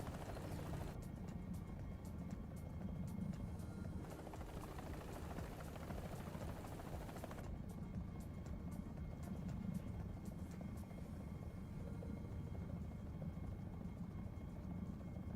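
A helicopter flies in the War Thunder video game (US lineup). Its rotor and engine drone stays steady and fairly faint for the whole stretch, with no speech over it.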